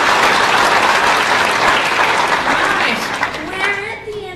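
A seminar audience on community resilience gives a loud round of clapping for a presenter, a dense wash that fades after about three seconds as a voice begins over it.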